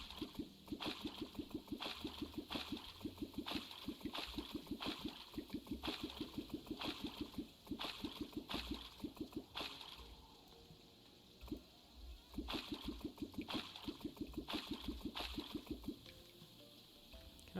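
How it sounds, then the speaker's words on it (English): Repeated squishy, bubbling water splashes surround the player character underwater in Terraria, coming in a steady rhythmic series of short gurgles with a brief lull midway before resuming. "Can I step back a bit so I'm not getting like enveloped by water so I don't make that annoying noise for you guys?"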